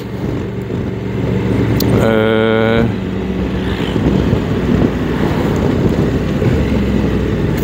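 A 2022 Honda NT1100 DCT motorcycle with its automatic dual-clutch gearbox hums along under heavy wind rush, with a brief rising-and-falling engine note as it downshifts, loud and continuous throughout.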